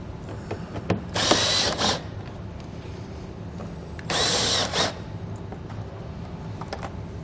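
A power tool whirs in two short bursts of about a second each while 7mm and 10mm bolts come out from under the front fascia of a 2014 Chevrolet Captiva, close and loud, with faint clinks between.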